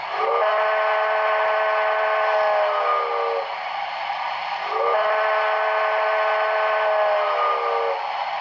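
Paragon4 sound system in a BLI 2-10-4 Texas & Pacific model steam locomotive blowing two long, loud whistle blasts with a chime-like tone, a brief gap between them, and no talking.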